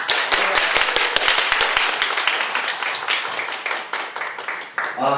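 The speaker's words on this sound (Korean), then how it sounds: "박정숙 사장님 다시 한번 큰 박수 부탁드립니다" A seminar audience claps after a speech, a dense round of applause close by. The clapping thins toward the end as a voice speaks over it.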